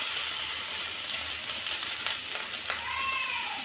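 Dosa batter poured onto a hot, oiled pan hisses and sizzles steadily up close, with a few faint ticks and scrapes toward the end and no talking.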